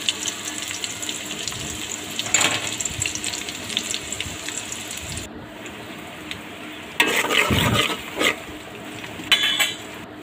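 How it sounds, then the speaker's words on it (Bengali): Chopped onions frying in a pan with cardamom, cinnamon and bay leaves for Bangla-style Eid biryani, a steady soft sizzle with stirring clatter and a few louder scraping bursts, no talking. "পেঁয়াজ কুচি আর 2টা এলাচ, 2টা দারচিনি, 2টা তেজপাতা দিয়ে পেঁয়াজটাকে হালকা করে আমি নেড়ে ছেড়ে একটু ভাজা করে নিচ্ছি।"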